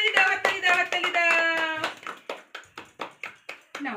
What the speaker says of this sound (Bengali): হাততালি দাও হাততালি দাও হাততালি দাও